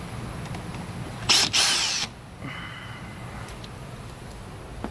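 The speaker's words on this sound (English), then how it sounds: "Take that screw out." A power driver whirs in a brief, sharp burst as it backs a screw out of a Mazda CX-9 dashboard, then falls silent with a faint rattle afterward.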